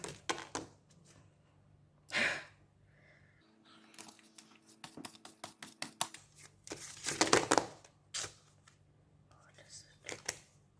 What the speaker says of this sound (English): it's so difficult to shuffle today.